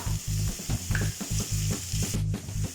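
Tomatoes going into sizzling onions and ginger garlic paste in a pan for Tamil-style mutton chukka, a loud close steady sizzle broken by rhythmic stirring scrapes, no voices.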